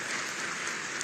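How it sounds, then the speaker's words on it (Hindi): At a ceremony in Uttar Pradesh where new sub-inspectors receive appointment letters, an audience claps in a steady, dense, faint wash of applause that holds evenly throughout with no voices. "प्रांजुल कटियार, आपकी तालियां थमनी नहीं चाहिए"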